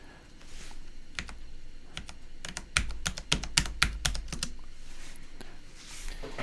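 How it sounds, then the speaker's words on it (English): Keys tapped on a computer keyboard, spacebar included, close isolated clicks that become a quick cluster of presses in the middle before tailing off. "so if I hit the spacebar"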